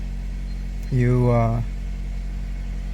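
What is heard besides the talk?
Toyota Corolla 2022 engine running after start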